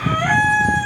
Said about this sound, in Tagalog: So, yung manok ko ay maingay.